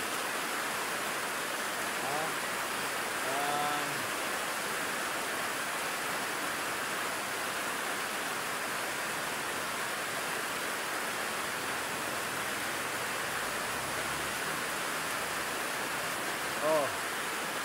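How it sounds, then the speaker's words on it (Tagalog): Constant broadband hiss of heavy rain, dense and unbroken, with a few faint voices in the background. "Ulan dito oh. Lakas."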